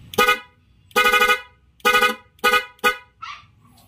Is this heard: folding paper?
no